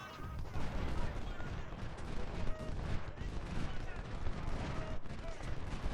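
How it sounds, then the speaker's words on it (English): Artillery and musket fire rumble through a Civil War battle at Corinth in the strategy game Ultimate General: Civil War, a continuous dense barrage of distant booms and crackling volleys, with someone talking over it. "He's getting hit by artillery"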